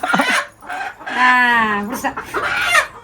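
Chickens cluck and squawk close by, with one drawn-out rising call in the middle and a few short bursts around it.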